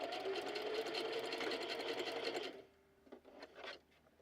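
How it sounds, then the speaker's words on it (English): A sewing machine whirs in a fast, steady stitching run up close, then stops, leaving a few faint clicks and handling sounds. "And if you're afraid of your sewing machine, don't be."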